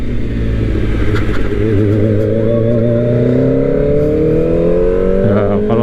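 A Kawasaki ZX25R motorcycle fitted with a big aftermarket exhaust, throttle opened, rising in a loud, deep bass rev that climbs steadily in pitch and stays close throughout.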